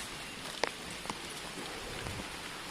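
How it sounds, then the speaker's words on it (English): Rain pattering steadily outdoors, a soft even hiss with a couple of sharper drops tapping nearby, no voices. "It wasn't meant to rain today."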